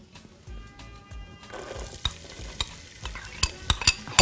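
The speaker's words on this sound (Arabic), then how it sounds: "هنا بس احط هنا البصله بتاعت الرز اللي انا هحمرها قوي" Onion for rice, to be served with fish sayadiya, hits a hot pan. A quiet start gives way to a loud, crackling sizzle, with spatula scrapes and clinks growing sharper and more frequent toward the end.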